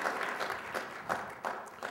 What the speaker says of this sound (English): But applause for all the panelists,